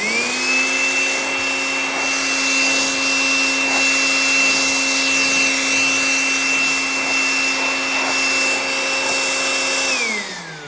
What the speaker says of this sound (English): moment we switch on this motor, we can hear a peculiar sound which is showing the power of the motor and RPM